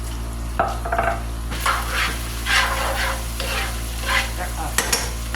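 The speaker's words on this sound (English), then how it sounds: "I hate the sound of that spoon in there." A spoon scrapes and clinks around a pan in repeated strokes over a steady sizzle of frying onion, close by with no talking.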